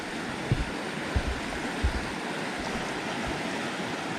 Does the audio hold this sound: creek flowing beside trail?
yes